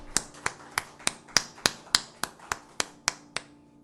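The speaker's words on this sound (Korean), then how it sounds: "하나님 앞에 영광의 박수 올려드리겠습니다" Rhythmic, evenly spaced sharp claps, about a dozen in a steady beat, from a congregation at a Sunday morning church service, fairly faint and distinct rather than a dense crowd wash.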